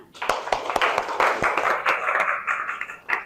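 Classroom applause during a teaching lesson: a scattered round of hand clapping from students, moderately loud and steady for a few seconds, with sharp individual claps standing out.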